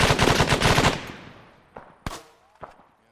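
Gunfire in the tactical shooter ArmA 3 during urban combat: a dense, loud burst of rapid automatic fire for about a second, trailing off into scattered single shots that sound from farther away, with no talk.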